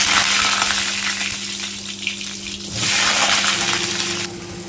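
Potatoes fry in a pan with two dry red chillies and white cumin, giving a steady, loud, close hiss that dips briefly and then swells again, with no voices.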